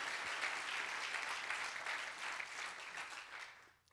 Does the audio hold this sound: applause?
yes